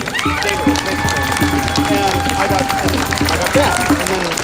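Crowd clapping at a street gathering of antifascist activists in Portland, a rhythmic unison clap beating at a steady pace with cheers and voices mixed in, loud and close.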